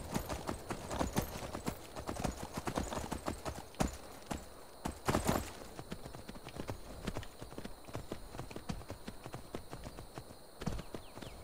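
Horse hooves clip-clop steadily in a video game, a close, rhythmic string of hoof falls that runs throughout with small bursts of louder steps.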